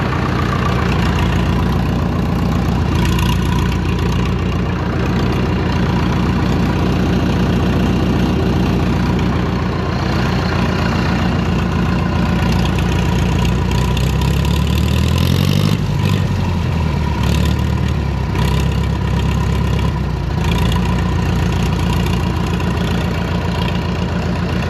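An International TD9 bulldozer's diesel engine with a cracked head idles steadily and loudly throughout, a constant low rumble with a brief dip and surge partway through.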